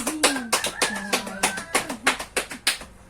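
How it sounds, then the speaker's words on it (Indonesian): Schoolchildren in a classroom clap for Kakak Beni, a fellow student, with a steady run of sharp, evenly spaced claps lasting the whole stretch. Voices call out over the clapping. "Wow, tepuk tangan untuk kakak Beni."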